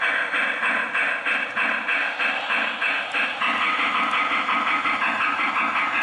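An O gauge model train engine runs over a sensor track, producing a steady, close mechanical hum and rumble with faint, regular clicking from the rails throughout.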